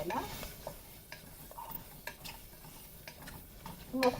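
Crushed garlic, nearly a whole head, sizzles in a hot tempering for a colocasia leaf curry, a soft steady crackle broken by regular scraping stirs and light clinks of a spoon against the pan.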